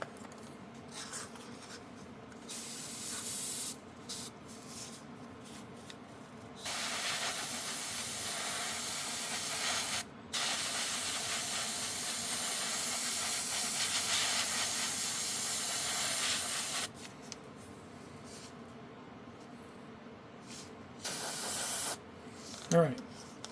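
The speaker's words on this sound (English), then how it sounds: "So before I clean my airbrush, I'm going to go ahead and spray this." Airbrush spraying paint in several bursts, a steady broadband hiss that starts and stops, with quiet pauses and light handling noises between sprays.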